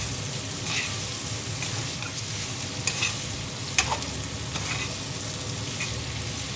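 Garlic shrimp with pesto sizzling in a pan while being stirred, a constant loud crackling hiss with a couple of sharp utensil clicks against the pan and no talk.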